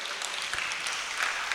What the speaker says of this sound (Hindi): चलो इनके लिए तालियां बजा दीजिए बहुत जोर से।